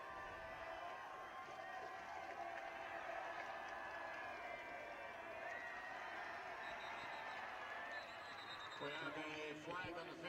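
Home crowd at a high school football game between Moses Lake and Eastmont, a broad, distant roar of cheering and noise that stays steady throughout, with an announcer talking over it.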